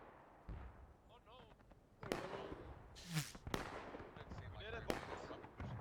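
Cannons boom on the battlefield of War of Rights during a river-crossing event, several sharp blasts spaced irregularly, some near and some farther off, amid shouting voices.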